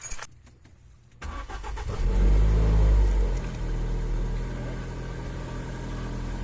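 A 2012-2018 Ford Focus engine cranks after a brief quiet moment and catches with a loud low rev surge, then settles into a steady idle, recorded close to the car.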